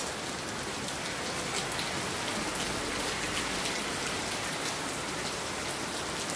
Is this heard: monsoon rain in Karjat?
yes